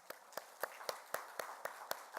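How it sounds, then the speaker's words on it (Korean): A church congregation at an Easter Sunday morning service claps in welcome for a new family, a steady rhythmic beat of about eight even, unison claps, fairly faint and distant in the hall. "우리 축하에 박수를 하도록 하겠습니다"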